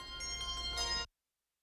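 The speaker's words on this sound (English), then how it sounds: "performing all over for over 25 years with 7 octaves of handbells and hand chimes" Sustained ringing tones from a handbell choir playing seven octaves of handbells and hand chimes, a soft shimmering chord with gentle attacks that rings briefly and then cuts off abruptly.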